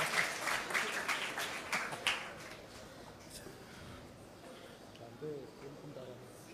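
Audience at a prayer house Bible quiz clapping in a short burst of applause that quickly fades, leaving quiet room murmur and a voice speaking.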